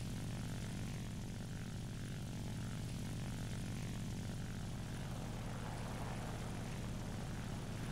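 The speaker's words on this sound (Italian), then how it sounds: "Oddio, cosa è un aereo, ragazzi?" A propeller-driven aircraft flies over in the War Thunder combat video game, a steady, dense engine drone holding at constant loudness for the whole stretch, with no voices.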